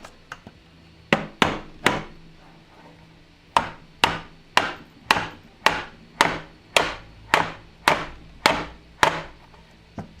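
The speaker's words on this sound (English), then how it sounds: "1 second, I'm going to grab a hammer." A dead blow hammer taps sharply about fifteen times, in short bursts and single knocks with brief pauses, close and distinct against a quiet room.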